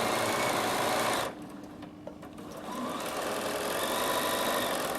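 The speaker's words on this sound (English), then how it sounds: "I'm going to keep sewing down here." Bernina 7 Series sewing machine stitching: a close, steady rapid whir of the needle running continuously, dipping briefly in a short pause before resuming at full speed.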